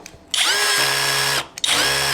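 A Dremel Blueprint multi-drill runs at full throttle in two bursts, each a loud, high, steady whine that starts abruptly, separated by a brief pause.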